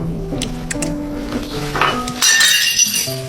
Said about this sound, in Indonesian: Aku mecahin mangkok.